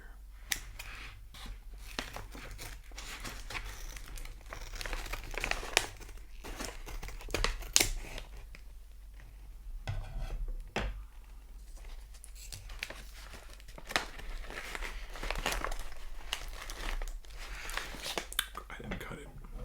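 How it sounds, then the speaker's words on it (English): Plastic candy wrapper on lemon drops crinkles and rustles as scissors snip at it, close and intimate, in irregular bursts of crackle and small clicks under soft whispering. "I got my scissors here."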